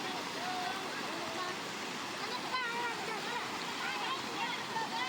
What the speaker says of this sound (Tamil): ஒரே ஒரு நாள் தான் மழை பெஞ்சது வெள்ளை மாதிரி தண்ணி ஓடுது